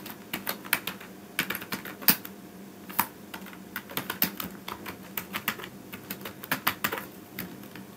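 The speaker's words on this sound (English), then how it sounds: "typing another title called Your Technology Entertainer." Rapid, irregular keystrokes on a computer keyboard, close and crisp, with bursts of clicks and brief pauses throughout, no voices.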